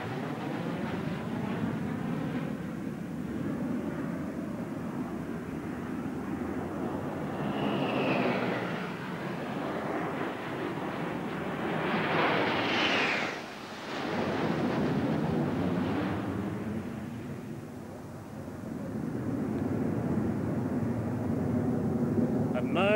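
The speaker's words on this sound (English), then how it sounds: "with 2 aircraft, 1 inverted, flying in formation past us" Two jet aircraft at an air show fly past in formation, one of them inverted, producing a loud, sustained roar that swells and fades over about twenty seconds, close overhead with a sharp peak midway.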